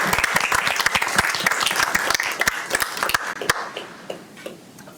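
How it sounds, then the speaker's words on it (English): Applause at a county party candidate forum, a room of people clapping loudly with sharp individual claps that thin out and fade toward the end. "Let's give them a little bit of applause."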